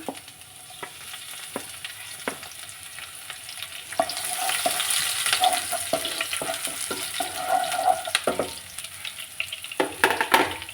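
Garlic and ginger frying in hot oil for a quick mango pickle, a steady crackling sizzle that swells midway, with scattered clicks and stirring scrapes, close and alone without talk.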